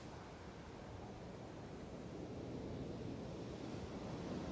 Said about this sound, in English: Just listen to the sound of the waves.